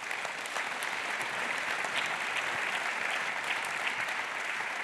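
An audience at a conference on artificial intelligence and the common good applauds a speaker, producing even, sustained clapping that sounds distant and fairly soft throughout.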